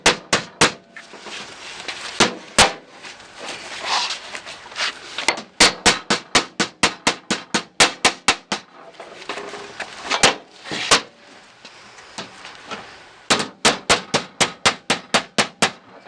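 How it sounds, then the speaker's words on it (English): A hammer folds the edge of a replacement 1967 Mustang door skin over the metal door shell, sharp metallic blows landing in quick rhythmic bursts of several strikes, separated by brief pauses, loud and close. "now you can see how this hammer really earns its name, because now you can just fold that thing right over with the curve"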